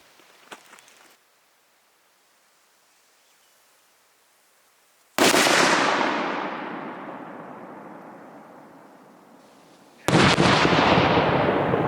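A loud blast erupts suddenly after a quiet pause as a pumpkin is blown up, its roar decaying over several seconds before a second loud burst hits.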